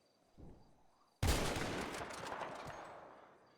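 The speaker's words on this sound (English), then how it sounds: "we both shot the rabbit in the head at the same time" A burst of video game gunfire aimed at a rabbit: after a soft thump, a loud crack erupts into a long roaring blast that slowly fades over a few seconds.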